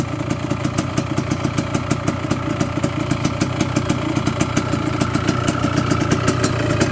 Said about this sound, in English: This thing's idling perfectly, like right on the dot.